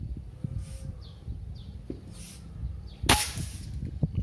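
A Phonix PCP air rifle fires a single sharp, close shot midway through, a bright crack followed by faint rattling and outdoor background noise.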